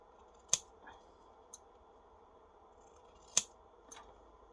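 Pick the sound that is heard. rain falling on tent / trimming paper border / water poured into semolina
trimming paper border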